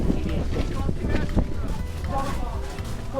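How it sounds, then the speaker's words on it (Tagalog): Strong wind buffets the microphone outdoors in Sapporo, Japan, a steady loud broadband rumble with gusts lasting the whole stretch, while people talk faintly under it. "Sobrang lakas ng hangin."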